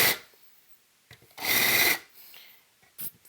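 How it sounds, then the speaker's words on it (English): A power drill with a larger bit chamfers the edges of holes in a tube amplifier build, whirring in short bursts, one longer buzzing run in the middle, separated by quiet gaps and small scraping taps. "use this larger drill bit to come back and chamfer the edges of these holes"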